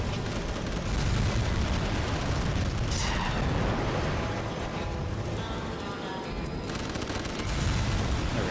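Gunfire in the Ty 3 video game on GameCube, dense continuous bursts and booms forming a loud, steady barrage with a sharp whoosh partway through.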